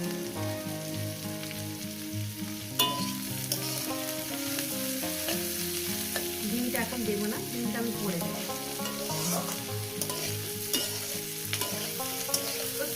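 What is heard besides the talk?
frying ivy gourd (kundru) spread in a pan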